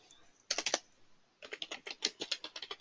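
Fingers tap out SAS code on a computer keyboard in two close bursts of quick, quiet keystrokes separated by a short pause.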